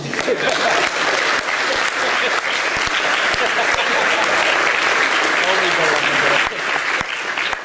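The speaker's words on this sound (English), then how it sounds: "Can I get a round of applause real quick?" A chapel audience at a school service breaks into sustained applause, with dense clapping and a few louder individual claps, filling the room for several seconds.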